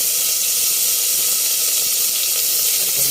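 Tomatoes sautéing in a pan for tawilis fish sinigang: a loud, continuous close-up sizzle with steady frying hiss and no pauses.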